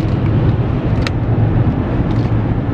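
Steady low road rumble and engine drone inside a moving car on a drive back to California, constant and fairly loud, with a faint click partway through and no talk.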